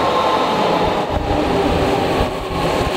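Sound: JR train at a station in Japan

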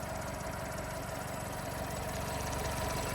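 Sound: car engine idling

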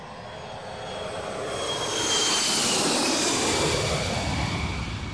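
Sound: airplane engine noise

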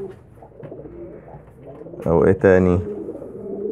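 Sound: pigeons cooing

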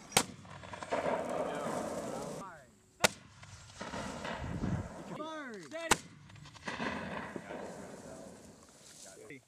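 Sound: M224 60mm lightweight mortar firing live rounds

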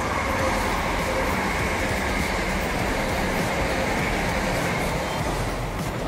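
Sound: train passing

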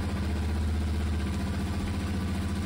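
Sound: Yamaha Tenere 700 motorcycle engine idling

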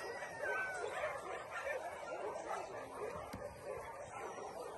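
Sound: dogs barking and whimpering in shelter

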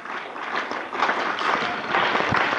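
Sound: audience applause at school Republic Day celebration

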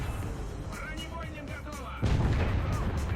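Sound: IS-2 tank cannon firing in the video game War Thunder

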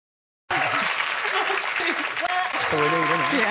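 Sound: audience applause and cheering

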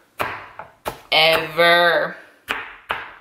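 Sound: knife chopping onion

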